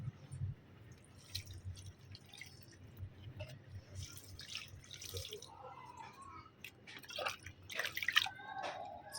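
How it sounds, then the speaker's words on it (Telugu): Garden plants being watered, with soft, scattered drips and splashes of water landing on leaves and soil; quiet and close, irregular rather than a steady stream, and no one talking. "సో ఇలా నేను అన్ని మొక్కలకి వాటరింగ్ చేసేస్తాను"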